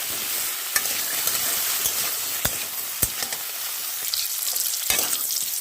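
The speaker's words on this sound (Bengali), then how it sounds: "সামান্য হলুদটা দিয়ে ভালো করে নেড়ে করে নেব।" Cauliflower florets with a little turmeric are stirred in hot oil in a pan, the sizzle steady and close, broken by a few sharp scrapes and clicks of the spoon against the metal.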